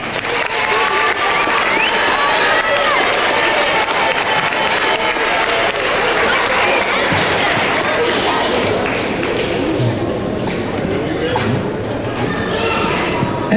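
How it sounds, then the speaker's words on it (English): An audience at a Mt Olive winter band concert claps loudly and continuously, dense applause filling the hall from start to finish with a few scattered cheers. "And hey, we're not done clapping yet"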